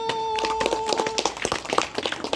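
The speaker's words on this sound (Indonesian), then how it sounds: "kita beri aplaus untuk kelompok 1" A classroom group claps for the first presenting team, a short burst of many hands at close range. The clapping grows more scattered and uneven toward the end.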